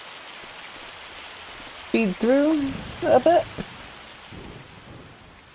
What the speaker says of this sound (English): Okay, there's the end of the hail.